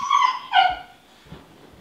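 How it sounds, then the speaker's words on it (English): Dogs let out two loud, high-pitched whimpering yelps close by, followed by faint softer noises, with no speech. "those are my dogs"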